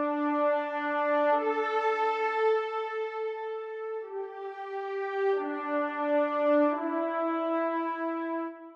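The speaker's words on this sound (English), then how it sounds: "So what you're hearing here are trumpets and French horns." A brass section of trumpets and French horns, a sampled virtual instrument, plays slow, sustained chords, smooth and warm, moving through a few held harmonies at moderate volume.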